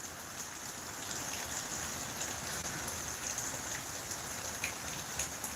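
Steady rain falls outdoors, a dense even hiss of drops with no breaks, heard at a moderate distance and without any voices.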